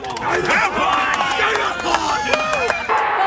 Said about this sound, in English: cheering on the Pies in the Olympic room at the MCG